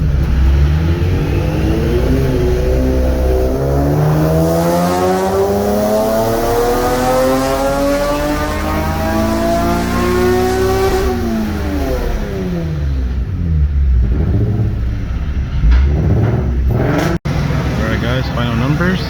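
A Nissan 370Z with a twin turbo kit revs hard during a retune run, its engine climbing steadily in pitch to a peak, then dropping off and winding back up, loud and close.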